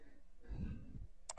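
A faint, quick computer mouse click sounds near the end of a short, quiet stretch, while someone edits in Adobe Premiere software.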